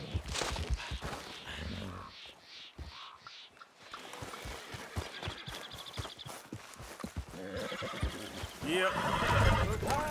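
Horse neighing and hooves clip-clopping in Red Dead Redemption 2, a loud whinny near the end over steady walking hoofbeats, with people talking throughout.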